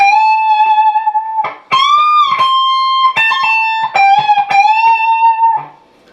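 A clean, singing electric guitar lick, with pitch bends and vibrato on held notes, played alone with short pauses between phrases.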